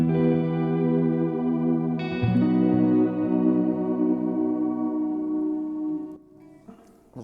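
Electric guitar run through an effects pedal, with sustained layered chords thick with chorus, echo and reverb, played loud and steady before a chord change and a fade near the end.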